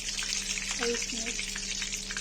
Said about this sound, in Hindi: फ्राई हो जाएगा तो बैगन फ्राई करेंगे।